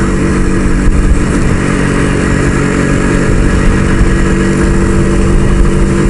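Honda, Yamaha and Harley motorcycles in a club charity ride rumble past, a loud, close, continuous mix of engine roar with no talk.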